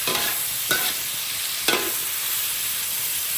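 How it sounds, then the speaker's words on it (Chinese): Dried chilies and Sichuan peppercorns fry in hot oil in a wok, giving a steady, loud sizzle with a couple of brief stirring scrapes partway through. "干辣椒、花椒，油已经炸出来了啊"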